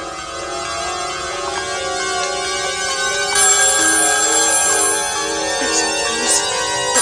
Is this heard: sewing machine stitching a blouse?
no